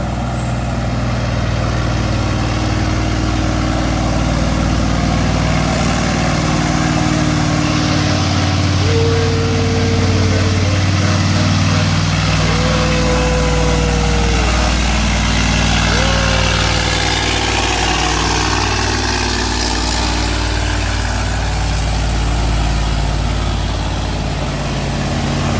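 Diesel trucks, including an L300 and a Colt Diesel, labor uphill side by side, their engines droning loud and steady throughout with shifting tones and occasional brief hiss, close by.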